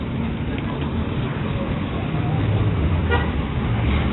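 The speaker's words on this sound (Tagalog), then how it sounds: "Busy ang kalsada dahil ang oras ay magna-9 na ng umaga." Busy morning road traffic in the Philippines around nine o'clock, a continuous close roar of passing cars and engines with a brief horn toot partway through.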